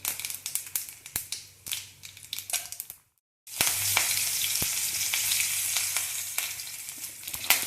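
Urad dal frying in hot oil crackles with sharp pops, then after a brief silence curry leaves hit the oil and a loud, bright, continuous sizzle takes over, dotted with spitting pops.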